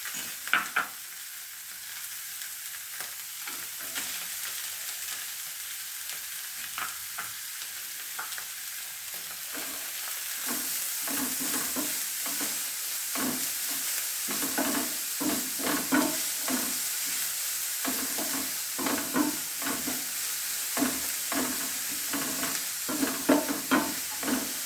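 Mixed vegetables tip into a hot pan one after another and are stir-fried for a stuffed paratha filling, a steady close sizzle with repeated scraping and stirring strokes that grows louder and busier as more go in; no one talks.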